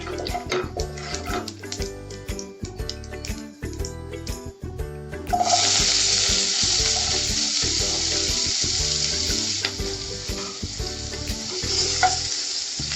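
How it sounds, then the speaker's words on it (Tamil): Onions and curry leaves frying in oil, starting with rhythmic stirring clatter and then swelling into a loud, steady sizzle that continues close up to the end, with no speech. "வெங்காயம் நல்லா பொன்னிறமாக வதங்கட்டும்."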